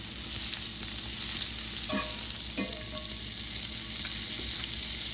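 Pork chops sizzle steadily in a hot skillet with butter, a loud, bright, constant frying hiss with a couple of brief clinks of a utensil partway through.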